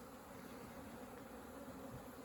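A steady, dense buzz of many honey bees around styrofoam hives, continuous and even throughout, with a low hum under a brighter droning texture.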